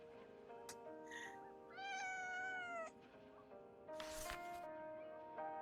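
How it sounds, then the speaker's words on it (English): A cat in the video game Wuthering Waves meows several times in clear, drawn-out calls over a steady background music bed, with no talking. "Cat."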